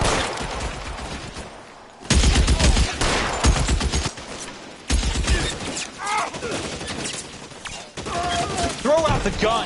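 Gunfire in a shooter video game, with rapid bursts of shots in dense overlapping volleys across the whole stretch, mixed with excited players talking over the noise.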